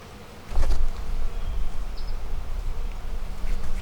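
Honey bees hum in a dense, steady low drone close around an open beehive, with a few louder passes near the listener and light rustling underneath.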